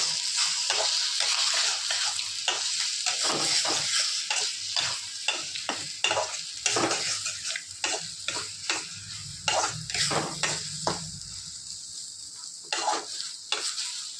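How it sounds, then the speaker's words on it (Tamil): A spatula stirs and scrapes an egg kothu chapati mixture frying in a pan, giving quick, irregular clatters over a constant sizzle, close and clear with no talking. "இப்போ நல்லா கிளறிடுங்க"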